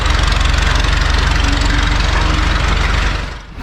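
A 1917 Fordson Model F tractor with a four-cylinder engine runs steadily with a loud, dense, rumbling chug that has a slight knock. It stays close and even, then dips briefly near the end.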